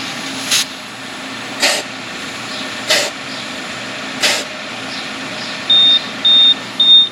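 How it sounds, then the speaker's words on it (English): Four spaced hissing bursts of air come from a tire air pump machine as it inflates a car tire, followed by three loud beeps in a row once the target pressure is reached. "the machine will beep"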